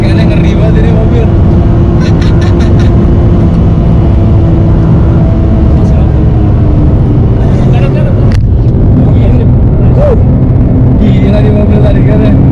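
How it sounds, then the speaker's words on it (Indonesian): A Nissan GT-R R35 accelerating hard, heard from inside the cabin as a loud, sustained engine roar with one brief shift break, while excited voices talk over it throughout. "Tarikannya ngeri banget ini mobil."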